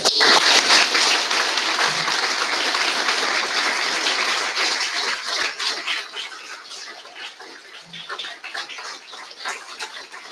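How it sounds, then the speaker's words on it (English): A round of applause from the audience at a West Point chapter Sergeant Audie Murphy Club induction ceremony, a dense, steady clatter of many hands that carries on for several seconds and eases off slightly toward the end. "please join us in a round of applause for the newest Sergeant Audie Murphy Club member"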